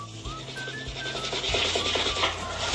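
Fabric scrubbed hard to lift a mustard stain, a steady rasping rub with brisk strokes, close and continuous, with faint background tones and no talking.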